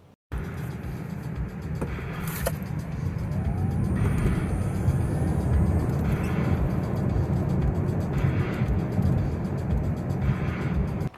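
A Tesla Model S accelerates hard from 0 to 60, a steady broadband roar of road and wind noise that swells and holds loud throughout, with no engine pulses and no talking.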